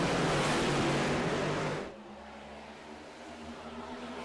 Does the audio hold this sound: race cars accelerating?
yes